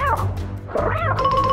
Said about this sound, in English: Is that meowing coming from inside the snake's belly?